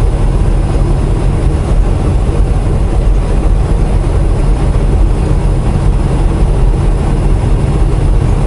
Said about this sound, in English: Philip Lee, there's another train coming this way